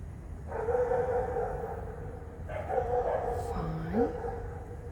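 Dogs bark repeatedly on a street in Milan at walking time, in two moderately close bursts with a rising whine near the end, over steady city background noise.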